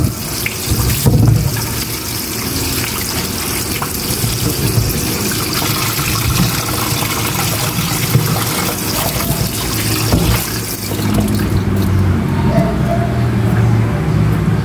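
An apple being washed under a running kitchen tap: a continuous, close rush of water splashing into a sink, with a brief change in flow near the end.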